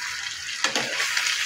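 Chicken pieces fry in a pan for chicken fry, giving a loud, steady, close sizzle with a brief burst of spatter partway through and no talking.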